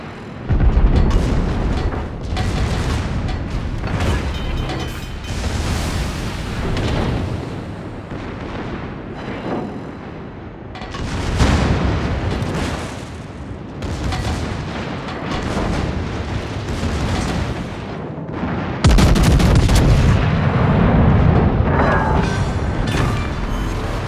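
Heavy naval gun salvos from the battleship Ohio in World of Warships, loud booming blasts repeating in clusters with rumbling decay, the largest salvo near the end, no talk.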